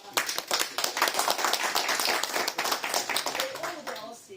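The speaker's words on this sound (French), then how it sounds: "Donc, voilà, on l'applaudit." A church congregation claps for a visiting pastor at a Sunday service, a dense run of hand claps that starts loud and fades toward the end as a voice begins to speak.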